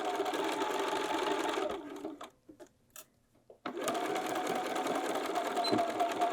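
A sewing machine stitches a bag gusset, running in a loud, steady close whir. It pauses for about two seconds with a few soft handling clicks, then runs again at the same pace.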